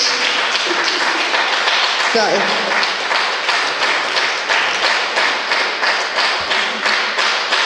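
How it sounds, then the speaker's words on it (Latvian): Audience applause at a cultural house event, steady dense clapping with a rhythmic pulse sustained throughout, a brief voice speaking over it near the start. "Aplausi."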